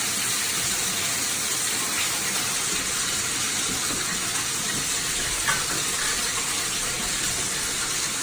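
Water runs in a steady, continuous gushing rush from a tap, filling the whole stretch evenly with no pauses.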